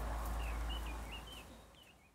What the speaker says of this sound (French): Écoute le chant des oiseaux, les voitures qui passent derrière moi.